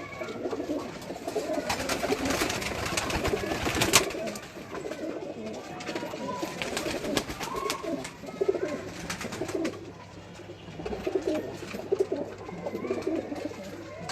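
Ferozpuri pigeons coo in a steady, overlapping murmur of low throaty calls, close by in a breeder's loft, with a faint background hum and occasional rustling throughout.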